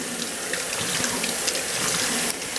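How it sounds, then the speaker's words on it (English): Cold tap water runs steadily into a sink as fruits and vegetables are rinsed clean of a vinegar solution, a continuous close splashing rush with no voices. "rinse them under cold running water, which I'm going to do right now"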